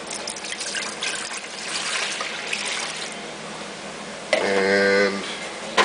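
Grape juice for homemade grape jelly pours into a measuring cup, a steady liquid splash and trickle that swells into a louder, fuller stream near the end.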